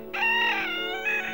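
Free-range hens at first light give one drawn-out, tonal fowl call lasting about a second, clear and fairly close over a quiet background.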